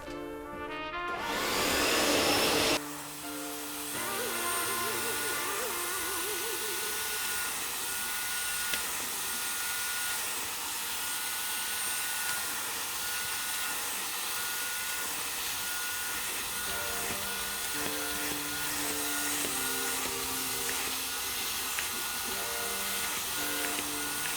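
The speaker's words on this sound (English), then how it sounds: "maybe I'm just going to grab my extractor and we're going to go ahead and extract it." Carpet extractor machine cleaning a carpet, a steady loud whining motor and suction drone that starts with a brief louder surge, then runs continuously with little change.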